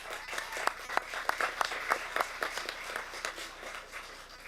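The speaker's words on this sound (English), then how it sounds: "One more round of applause for Sarah" Clapping from a packed crowd at a town board meeting held for Hispanic Heritage Night, a scattered burst of claps that thins out over a few seconds in a reverberant room, with no talk over it.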